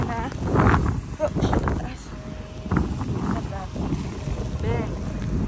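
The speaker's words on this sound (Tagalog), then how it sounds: "malakas yung hangin" Strong wind buffets the microphone in heavy gusts in snowy conditions while a person talks close by, with rumbling low noise throughout.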